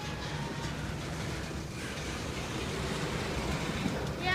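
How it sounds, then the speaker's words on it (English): An Amtrak train at Greenville station: a continuous low rumble and rolling rail noise that holds steady, swelling slightly toward the end, heard from trackside with no talk. "So you guys just watch the train"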